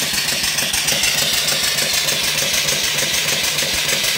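A live steam engine driving a 14-inch V-belt pulley and an alternator runs slowly at around 200 to 250 RPM, giving a steady, continuous mechanical churn with a fast rhythmic pulsing and no voices.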